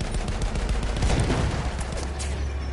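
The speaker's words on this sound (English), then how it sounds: "there's a guy up top shooting" Gunfire in the video game Battlefield 1: a dense, loud fusillade of rapid shots and bursts, continuous and close, with no talk.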